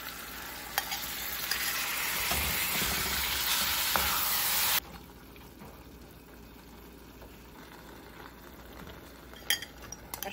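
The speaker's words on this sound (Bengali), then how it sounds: "ভালো করে মশলাটাকে ভেজে নেব" Spices sizzle and fry loudly in a pan for several seconds, then the sizzle suddenly drops to a quiet background with a few faint clinks of utensils.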